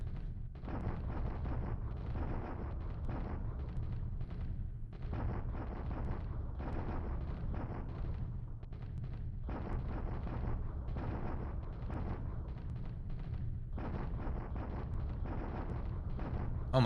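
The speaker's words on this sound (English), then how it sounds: "We have so much artillery, it's crazy." Artillery fire in the War in the Pacific strategy game, a dense, rumbling barrage of deep booms that repeats in overlapping bursts without letup, with no talking.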